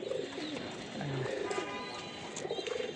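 Pigeons coo in a damp, waterlogged pigeon house, soft low murmuring calls repeating close by throughout, with light background noise and no talking.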